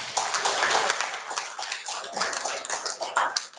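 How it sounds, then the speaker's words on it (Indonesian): An audience at a school event on education for all claps together, a dense continuous patter of applause heard from a distance, with faint voices underneath. "Tepuk tangan dulu."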